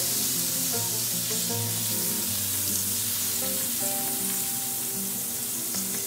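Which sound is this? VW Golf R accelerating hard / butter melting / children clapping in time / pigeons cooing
butter melting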